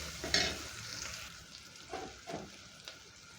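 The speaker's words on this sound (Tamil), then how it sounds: "வெங்காயம் தக்காளியை நல்லா வதக்கிடலாம்." Onion and tomato sauté in a pan for a fish curry, giving a soft, low sizzle broken by a few brief stirring scrapes, heard close and faint with no voices.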